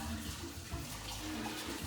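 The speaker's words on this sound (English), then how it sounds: "I like to scrub it a little bit, rinse it with water, and sometimes with soap" Tap water running steadily into a kitchen sink as dishes are rinsed, a broad continuous splashing wash at moderate level with no talk over it.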